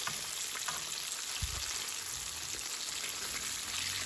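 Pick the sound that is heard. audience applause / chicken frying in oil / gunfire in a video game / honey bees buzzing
chicken frying in oil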